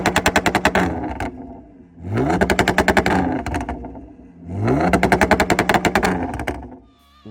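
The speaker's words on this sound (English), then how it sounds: "that two-step sounds insane from the outside" A tuned Audi S5's two-step exhaust rips out three long bursts of rapid machine-gun-like crackling pops, each building and fading as the car launches, heard loud from outside with no talking.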